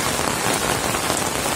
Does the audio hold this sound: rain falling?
yes